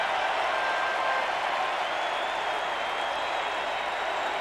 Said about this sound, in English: they applauded long and loud last night for this fella, and they're doing it again